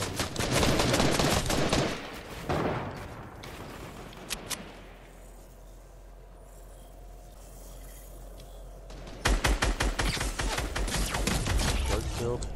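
Fortnite gunfire rips out in rapid, loud automatic bursts at the start and again near the end, with quieter sporadic shots and a low ambient hum in between.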